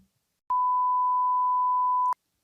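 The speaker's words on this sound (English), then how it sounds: "Beep that out." A single steady electronic tone, the classic censor bleep, lasting just over a second and a half against near silence.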